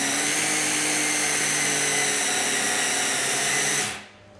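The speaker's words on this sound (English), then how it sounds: "We're then going to mix those together until the mixture resembles fine breadcrumbs." An electric mixer whirs steadily at high speed while beating shortbread mixture into fine crumbs, a loud continuous motor hum that cuts off suddenly near the end.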